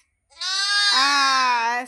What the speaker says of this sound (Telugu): మేక బాగా అరుస్తుంది